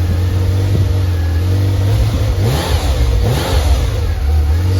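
A Ferrari 348 engine with quad exhaust idles close by and is blipped twice, each rev rising briefly in pitch before settling back to a steady idle.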